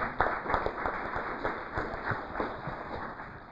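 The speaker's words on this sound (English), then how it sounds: "We get a round of applause for Denise for moderating." Audience applause at a community evening event on Nantucket, steady scattered clapping from a seated crowd, moderately loud and continuous throughout without talk.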